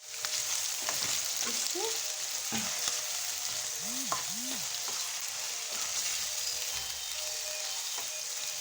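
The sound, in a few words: food frying in plenty of oil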